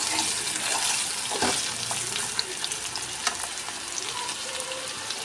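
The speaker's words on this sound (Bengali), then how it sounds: "নুন দিয়ে আমি প্রথমে আলুটাকে ভেজে নেব" Potatoes fry in a pan with salt and turmeric: a steady loud sizzle runs throughout, broken by occasional sharp stirring clicks, with no talking.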